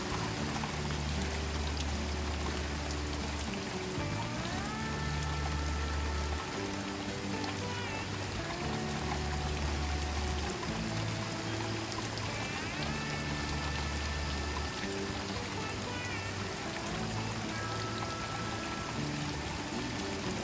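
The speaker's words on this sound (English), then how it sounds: "it's still raining. It has been dumping buckets" Heavy rain pours outdoors near a homemade duck pond, a dense, constant hiss of drops on surfaces that holds steady for the whole stretch, along with low rumbling and some faint tonal sounds in the background.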